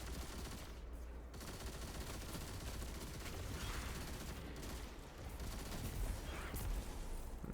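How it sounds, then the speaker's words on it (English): Sustained light machine gun fire in the video game Destiny 2, dense rapid bursts at steady level with brief pauses, while a voice talks faintly underneath. "Just gonna finish doing damage with this LMG."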